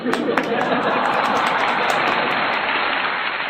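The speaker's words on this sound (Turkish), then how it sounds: "Evet arkadaşlar Mija'yı da alkışlayın." Steady applause from a group, a dense wash of clapping that holds at an even level throughout, with some talk mixed in.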